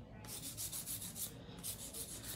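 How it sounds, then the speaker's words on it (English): A hand file rubs across acrylic nails in rhythmic back-and-forth strokes, about a dozen close, raspy scratches with a short pause midway, no voices. "I'm hand filing because my application is very smooth"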